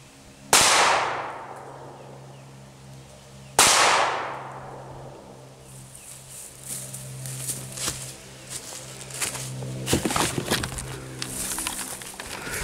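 Smith & Wesson handgun fired twice outdoors, two loud sharp cracks a few seconds apart with decaying echoes, followed by birdsong and faint rustling.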